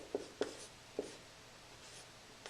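A pen writes out an answer to a factoring problem, with a few quiet taps and short scratches on paper close to the microphone and otherwise near silence.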